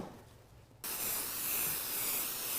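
Spray adhesive hisses from an aerosol can onto quilt batting, a steady close hiss that starts abruptly after quiet room tone and continues unbroken, with no talking.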